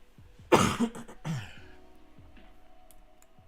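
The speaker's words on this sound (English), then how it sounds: "That infernal cough." A single harsh cough followed by a second rougher cough or throat clearing, close by, then quiet room tone.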